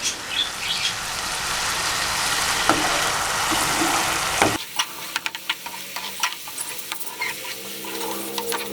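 Eggs frying in masala in a pan for a dhaba-style achari egg dish, a loud, steady sizzle that suddenly drops to a quieter crackle with irregular stirring clatters and soft pops.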